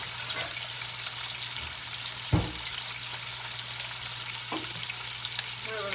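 Chicken thighs searing in hot oil in a pan, a steady close sizzle with the occasional clatter of a utensil, no voices over it.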